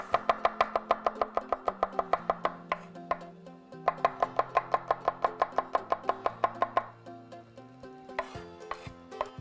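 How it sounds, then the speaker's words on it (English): A knife slices garlic cloves on a cutting board in quick, steady taps, two long runs of crisp chops with a short pause between and a few looser knocks at the end, close and clean, with no voices. "I'm just gonna slice this garlic up."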